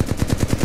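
Rapid bursts of gunfire repeat in a quick, even rhythm, like an automatic weapon firing in the video game Titanfall 2, loud and close.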